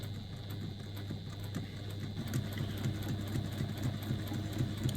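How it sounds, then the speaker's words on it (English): A sewing machine back stitching along a bag's top edge hums steadily at low volume, with quick repetitive needle ticks running through the whole stretch. "so I'm just going to go just back stitching"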